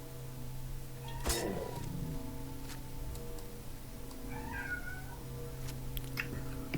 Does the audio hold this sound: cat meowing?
yes